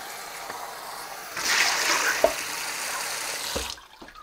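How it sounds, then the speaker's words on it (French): Water runs from a kitchen tap to rinse a graduated measuring pitcher, a steady splashing wash rising after a quiet start, with a couple of knocks of the pitcher, then cutting off near the end. "un pichet gradué, forcément, je ne l'ai pas rincé. On va le faire de ce pas."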